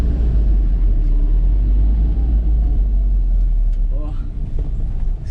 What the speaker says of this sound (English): The car drives.